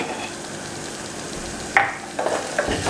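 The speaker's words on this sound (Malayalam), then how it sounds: "എന്നിട്ട് വീണ്ടും നന്നായിട്ടൊന്ന് ഇളക്കി കൊടുക്കാം." Spiced black-eyed bean curry masala with chilli powder and garam masala being stirred in a sizzling pan, a steady soft fry hiss with a few scraping stirs of the spoon near the end.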